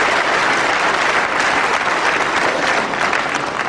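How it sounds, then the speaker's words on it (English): Steady, dense applause from a crowd watching a professional wrestling bout, sustained and fairly loud throughout with no voices over it. "Again, deserved applause for"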